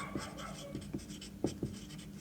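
Pen or chalk writing out a maths solution, a few short scratchy strokes and taps at an irregular pace, close and fairly quiet over faint room noise.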